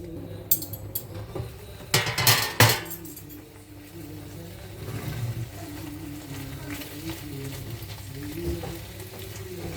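Merguez sausages frying in a home kitchen pan, a steady low sizzle running throughout, with a brief burst of clinking utensils and stirring near the start before the frying settles into an even hiss.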